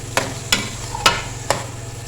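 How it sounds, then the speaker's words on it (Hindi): Grated carrots roast in a pan over a low flame while a spoon stirs them. Four crisp scraping knocks land at roughly even intervals, close up, over a quiet sizzle. "मैं लो फ्लेम पर भूनती जा रही हूँ।"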